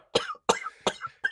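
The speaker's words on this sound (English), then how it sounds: "You're coughing so much." A person coughs four times in quick succession, each a sharp, close burst with short gaps between.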